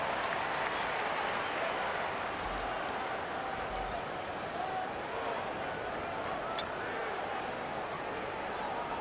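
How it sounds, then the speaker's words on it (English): Arena crowd in the NBA 2K25 basketball game applauding steadily during a timeout between the Golden State Warriors and Denver Nuggets, with a broad continuous wash of clapping and faint squeaks and thumps from the court. "Please give a big round of applause for your youth squad"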